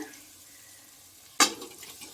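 Boiled dal dropped into fried masala in a pan for an egg tadka dal, a sudden loud splash and burst of sizzling after a quiet stretch, settling into a steady crackle.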